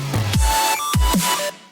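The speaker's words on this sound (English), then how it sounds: "if I were to play the drop without the bass, it would sound like this." An electronic music drop stripped of its bass layer plays loud and bright, with swooping pitch-dropping sweeps, tonal synth lines and hits, sounding thin and top-heavy, with no voices.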